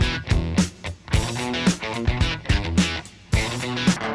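Electric guitar chords ring out in a loose rhythm, bathed in a subtle, smooth reverb tail that lingers between strums.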